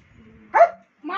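A German shepherd gives a single sharp, close bark, with quiet voices talking around it and a short vocal burst afterward.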